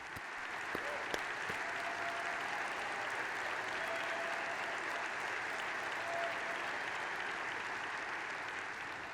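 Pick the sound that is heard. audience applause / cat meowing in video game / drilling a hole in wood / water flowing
audience applause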